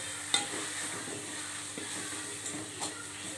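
Tomatoes and tamarind sautéing in a pan for mint chutney, a soft steady sizzle with occasional scraping stirs and one sharp tap near the start, fairly quiet and close.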